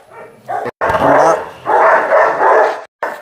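A husky puppy barks in short, loud bursts that come in two longer spells separated by brief silences, close to the listener.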